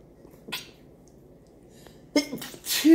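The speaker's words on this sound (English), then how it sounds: "So sorry, I had to sneeze." A single sneeze bursts out near the end, preceded by a faint sniff or breath and quiet background, close and fairly loud.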